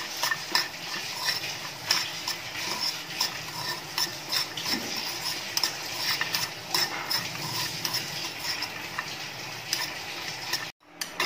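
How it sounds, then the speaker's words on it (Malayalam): Cashew nuts roast in a pan and are stirred, giving a steady run of small, light scraping and ticking clicks under a constant sizzling hiss, fairly close and moderately quiet. "ഇപ്പൊ അണ്ടിപ്പരിപ്പ് ഒരുവിധം റോസ്റ്റ് ആയി വന്നിട്ടുണ്ട്."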